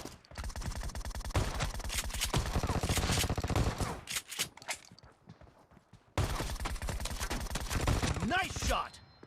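Shotgun fire in a PUBG Mobile team deathmatch bursts in rapid overlapping volleys, loud and dense, with a brief lull before another flurry and game voice callouts over it.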